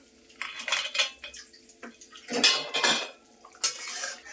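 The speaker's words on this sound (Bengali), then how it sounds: "এখন ঢেকে দিচ্ছি" Metal pot lids and utensils clank and scrape a few times while a pot of spicy bhola fish curry with lentil dumplings is covered, close and moderately loud with short bursts and pauses, no talking.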